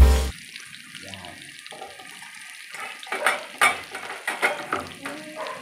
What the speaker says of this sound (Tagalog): nagprito na rin ako sa kabilang side itong ating kawali nitong talong